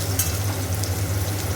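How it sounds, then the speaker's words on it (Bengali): Pumpkin slices frying in a pan, a steady close sizzle and crackle of hot oil running continuously and alone, with a low hum beneath. "কুমড়ো ভাজা বসিয়ে দিয়েছি, একটা পিঠ আসলে হয়ে গেছে"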